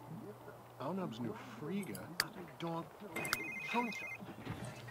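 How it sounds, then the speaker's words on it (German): An electronic telephone ringtone trills briefly amid The Sims 3 game sounds, while a person talks over it. "Es läutet ein Telefon."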